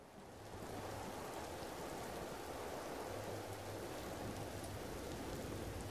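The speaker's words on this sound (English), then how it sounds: "It's raining." Steady rain in the video game Empyrion - Galactic Survival, a constant broadband hiss of falling drops at a moderate level that holds evenly throughout, with no voices.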